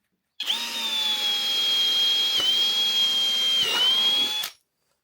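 A power drill bores holes into solar panel mounting brackets for a caravan roof, one steady high whine running about four seconds alone with two brief dips in pitch, close and loud, then stopping abruptly.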